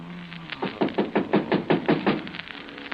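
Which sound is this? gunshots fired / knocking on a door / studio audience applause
knocking on a door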